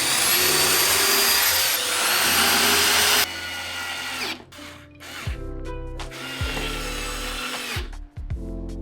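A power drill drives big screws into double-thickness wood, starting with a loud continuous whine, then giving several shorter bursts that stop and start, close by.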